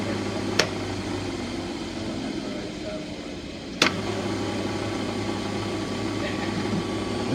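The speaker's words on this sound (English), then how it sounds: "I'm going to push the button and our motor will start to run nice" Large 3-horsepower AC electric motor at about 1745 RPM running with a constant low hum and steady whine, two sharp clicks breaking the even drone.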